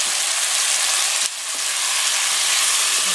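Pork hisses and sizzles loudly in a hot pan for Filipino pochero, a steady broadband fry that dips briefly when the meat is added, then swells back to a constant crackle.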